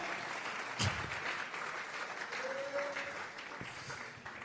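Congregation clapping at a church service, a dense, steady round of applause from many hands heard from within the room, fairly faint, with a brief voice rising through it.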